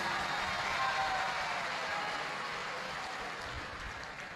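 An audience claps steadily through a live Shiv Mahapuran katha, a Hindu religious discourse, with a dense, continuous wash of applause that gently tapers off toward the end.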